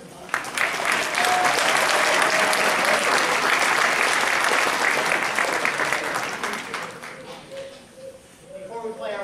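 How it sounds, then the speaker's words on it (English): A large crowd at a Pittsburgh Tuba Christmas concert gives Tim Palmer a sustained round of loud, dense applause that thins out toward the end, with scattered cheers and voices mixed in. "Round of applause for Tim Palmer"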